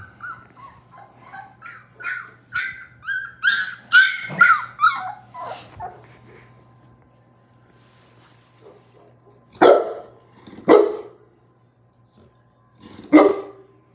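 A Boerboel puppy barks and whimpers in a rapid run of high yips early on, then after a quiet gap gives three louder, separate barks, close to the microphone with no talk.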